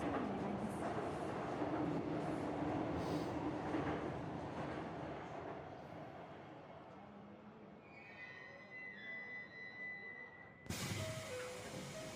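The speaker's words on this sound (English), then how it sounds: "The train will be arriving." A train pulls into a station in the Persona 5: The Phantom X video game, a steady loud rumble of rolling carriages that gradually eases, with faint squealing tones near the end before an abrupt louder noise cuts in.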